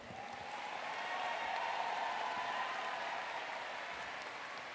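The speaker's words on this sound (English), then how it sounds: "Another round of applause for Michael." A commencement ceremony audience gives another round of applause for a graduate, a steady, soft, distant wash of clapping across a large hall.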